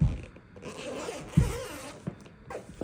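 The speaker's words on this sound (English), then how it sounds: "I'll go ahead and unzip this." A zipper is pulled open along a large poster storage case, a continuous rasping zip running close and clear for nearly three seconds with a few louder tugs.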